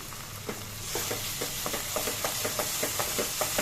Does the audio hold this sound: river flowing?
no